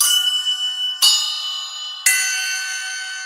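Three bright metallic strikes on Sabian Mike Portnoy cup chimes mounted on cymbals, spaced about a second apart, each ringing with a long shimmering sustain that overlaps the next; close and clear, no voices.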